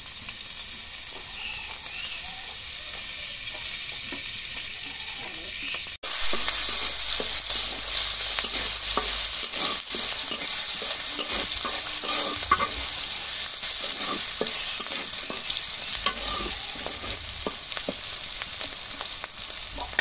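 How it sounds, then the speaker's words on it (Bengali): Chillies, onions and garlic sizzle steadily in hot oil, a close, continuous frying hiss that jumps louder partway through as more goes into the pan, with scattered scraping and stirring clicks and no talk. "এখন মরিচ পেঁয়াজ ভাজা হয়েছে"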